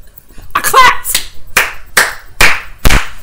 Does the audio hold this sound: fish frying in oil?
no